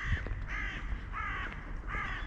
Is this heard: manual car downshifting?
no